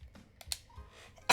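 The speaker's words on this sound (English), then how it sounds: "feel like I'm about to sneeze." A single sudden sneeze bursts out loud and close at the very end, after a stretch of near quiet with faint clicks.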